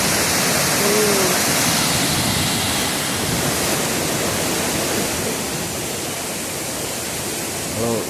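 Panchalinga waterfall in the Thirumoorthy hills, a loud, steady roar of cascading water, close and constant throughout, with a brief faint voice.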